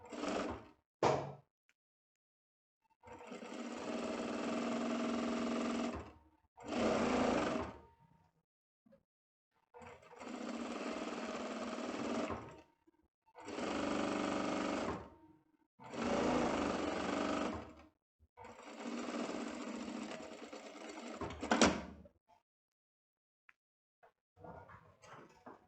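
Sewing machine stitching vest fabric in bursts of steady, close mechanical whirring, about seven runs of a few seconds each, separated by near silence and small handling clicks.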